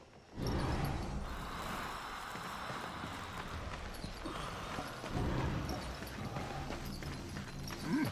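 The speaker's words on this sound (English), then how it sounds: "This is no place for a horse" Horse hooves clip-clopping in the video game Darksiders II, a steady, fairly quick trot of hoofbeats running throughout, close and moderately loud, with a low game ambience underneath.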